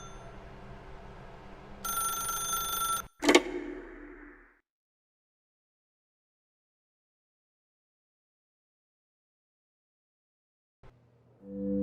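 A telephone in The Stanley Parable rings in a few bright, buzzing bursts early on, followed by a sharp click and then near silence, with a faint low sound returning at the end.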